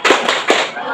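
Claps for the P5 cheer in a classroom lesson, three sharp hand claps in quick rhythm, near and fairly loud, ringing over a busy background of voices.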